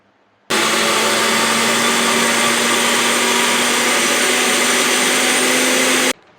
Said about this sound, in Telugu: చూడండి మిక్సీ పట్టడం అయితే అయిపోయింది, వేడిగా కాలుతుంది.